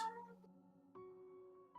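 A cat meows in the video game Code: Realize, a clear harmonic cry followed by two shorter rising calls, close and alone.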